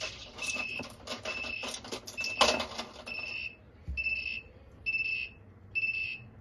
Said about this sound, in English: And the buzzer closes.